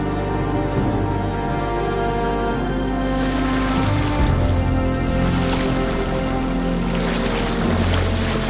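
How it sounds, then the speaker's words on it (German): A sailboat's engine drones steadily under motor in light wind on the open sea off Brazil, loud and close, mixed with rushing water, wave wash and wind noise against the microphone throughout. "Der Motor läuft noch, weil wir noch nicht genug Wind haben"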